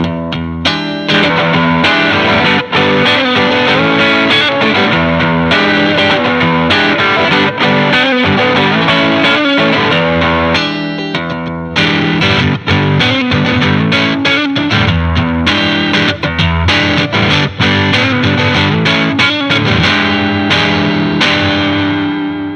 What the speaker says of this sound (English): I've dialed in a little bit of a lighter distortion on both pedals.